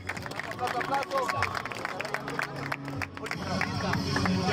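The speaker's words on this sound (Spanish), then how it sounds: "¡Aplausos, señores!" Crowd at a freestyle rap battle final claps and cheers, dense clapping mixed with shouting voices and lively babble, building louder toward the end.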